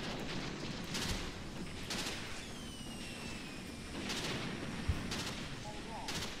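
Artillery and gunfire crack in the Graviteam Tactics war game, with repeated distant booms and bursts spaced every second or so under a constant rumbling battle backdrop.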